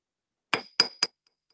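Three sharp metallic strikes of a hammer on a letter stamp, texturing one side of a metal bracelet being forged. The blows are close and evenly spaced, each ringing briefly, with silence around them and no talk.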